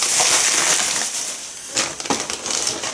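A sticky packet of Lapsang Souchong tea is pried open, giving close, crisp crinkling and crackling bursts. The rustle is uneven, with a sharper flurry of crackles near the end.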